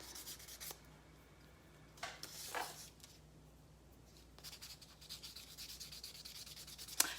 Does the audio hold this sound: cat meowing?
no